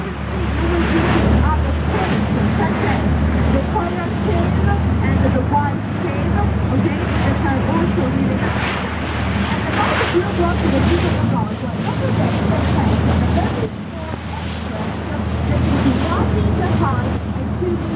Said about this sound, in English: We are actually going on a little boat ride around the island